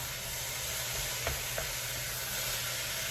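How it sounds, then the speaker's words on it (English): Food sautés in a pan over a lowered flame, giving a continuous even sizzle with a couple of soft taps from a utensil, close and steady with no one speaking. "saute it in here"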